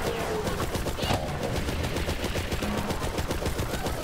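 A corrosive-damage gun in a video game fires in a rapid, continuous automatic stream, loud and close, with the shots running together for the whole stretch.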